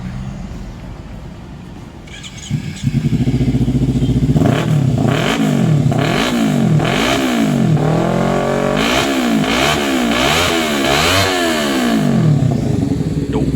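A 2015 Kawasaki Ninja 300 SE motorcycle starts up and idles, then is revved repeatedly in quick throttle blips, loud and close, with rising and falling engine pitch in a rhythmic series.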